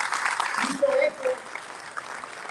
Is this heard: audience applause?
yes